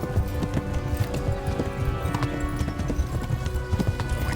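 Galloping horse hooves pound in rapid, continuous clip-clop rhythm during a mounted chase in the medieval video game Kingdom Come: Deliverance, steady and fairly close over the whole stretch.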